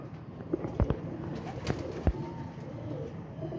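Pigeons, breeder birds on new feathers, give soft coos and a few faint wing flaps close by over low background noise, with a couple of sharper brief sounds.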